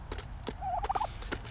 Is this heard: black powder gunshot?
no